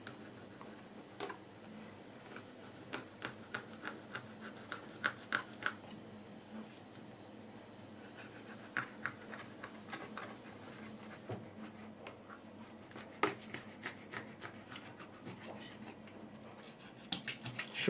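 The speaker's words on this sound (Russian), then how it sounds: "И начинаем вдоль позвоночника" A knife slices fillet meat from a cleaned pike along the spine, giving quiet, irregular ticking cuts and scrapes in a soft series, close up and fairly faint, with no talking.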